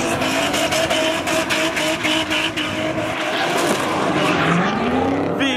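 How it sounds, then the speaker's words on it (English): A drifting car with a Nissan VQ35 engine revs hard and steadily, its rough engine note rising and falling with faint tire squeal, loud and close throughout. "VQ35. It sounds absolutely terrible."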